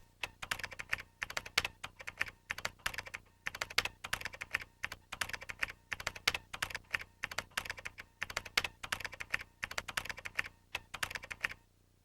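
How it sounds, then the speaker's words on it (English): A mid-1990s Windows 95 PC keyboard is typed on steadily while text is entered into a document, giving a fairly faint, continuous patter of key clicks in uneven bursts with no speech. "Now we'll type away."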